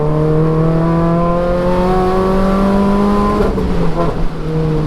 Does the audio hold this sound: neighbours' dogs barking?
no